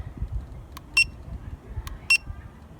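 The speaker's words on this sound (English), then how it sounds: "I'm going to hit the code button on here. You'll hear a beep." A handheld tire pressure sensor tool sounds short electronic beeps when its code button is pressed: two pairs of crisp, high chirps about a second apart over a quiet background, with no speech.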